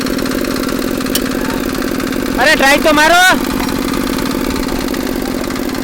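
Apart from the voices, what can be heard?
tractor engine started and running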